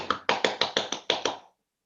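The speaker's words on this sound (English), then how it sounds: "That's the German in the stand applauding the overhead kick goal" A spectator in the stand at a West Ham United versus Crystal Palace football match claps about eight times after an overhead kick goal; the claps are sharp, close and evenly spaced, then stop.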